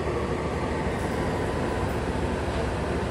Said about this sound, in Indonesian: Kereta api Logawa berangkat duluan dari stasiun Kalisat